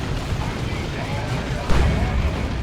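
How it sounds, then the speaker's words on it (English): Missile launchers fire in a Dawn of War 2 battle between Space Marines and Orks, a dense continuous rumble of launches and blasts with a heavier boom near the end of the stretch. "Oh, triple missile launchers."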